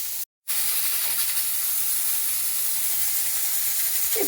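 Cumin seeds and chopped vegetables frying in hot oil in a home kitchen, a loud, steady hiss and crackle throughout after a brief cut to silence near the start.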